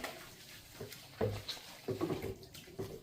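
Water splashes and trickles in a bathtub while a long-haired Maine Coon cat is shampooed, with several soft bursts of pouring close by at moderate volume.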